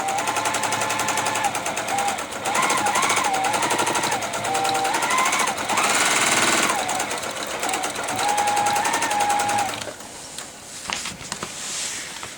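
A quilting machine stitches stippling in colored thread across a quilt on a quilt frame, its needle running in a steady fast mechanical chatter that shifts pace as the carriage moves, close and loud throughout.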